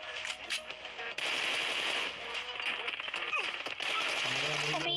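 Rapid automatic gunfire bursts from a video game dominate throughout, dense crackling volleys with brief gaps, while voices talk over the action.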